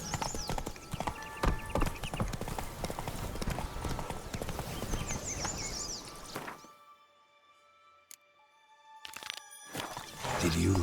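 A horse trots over ground in The Witcher game, hooves clip-clopping rapidly and fairly close, then dropping away to near silence before picking up again at the end.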